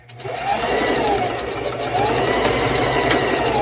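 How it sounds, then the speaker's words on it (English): A sewing machine stitches a Christmas stocking, running in one continuous, close, fast whir after a brief start. "So just going to sew half an inch down."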